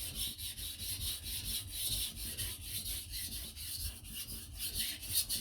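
A knife is sharpened across the full length of a whetstone in steady, rhythmic rasping strokes, quiet and close, with no talking.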